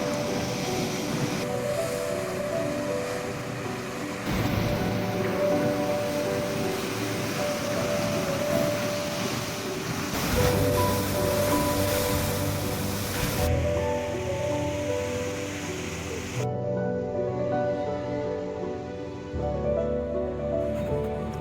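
Atlantic Ocean waves crash and surge below sea cliffs at Benagil on Portugal's southern coast, a loud continuous roaring wash with shifting swells and no voices.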